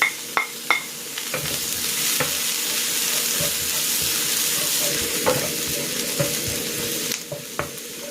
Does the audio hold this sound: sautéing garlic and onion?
yes